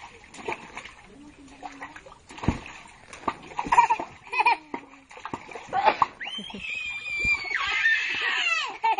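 Children splash water at play with squeals, shrieks and laughter, the splashes coming in scattered bursts close by while voices call out over them.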